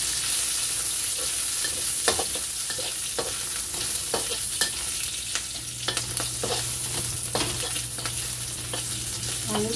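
Chili and galangal stir-fried in a pan: a dense, continuous sizzle with repeated scrapes and clinks of a spatula moving the pieces around, close and fairly loud.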